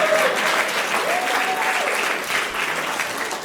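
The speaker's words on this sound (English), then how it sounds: "Yeah, you can applaud that." A comedy club audience breaks into loud, sustained applause with a few cheers mixed in, the crowd clapping steadily throughout.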